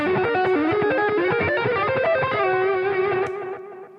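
A distorted electric guitar plays a fast, angular scale run of many quick notes, ending on a sustained note that fades out.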